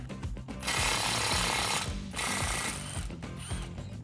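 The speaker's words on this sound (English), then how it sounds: "we can remove the 10mm bolt holding on our bracket" A power tool rattles a 10mm bolt off a bracket on a 2015-2019 F150 during a suspension lift, loud bursts of rapid hammering with a short pause midway, close up and without talk.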